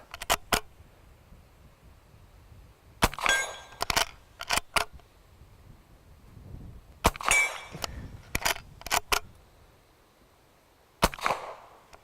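Navy Arms Rossi 1892 Winchester reproduction lever-action rifle fired at a target outdoors: sharp, loud gunshots in irregular pairs and clusters, each trailed by brief metallic rattle of the lever action, with quiet gaps between.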